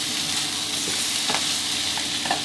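Vegetables, kale and onion, stir-fried into nam fried rice in a hot pan, giving a loud, steady sizzle with scraping stirs throughout and no talk.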